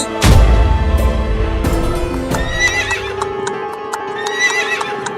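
Horses neigh and whinny loudly up close, opening with a heavy low thud, then shrill high whinnies recur over a steady clip-clop of hooves, with no talk.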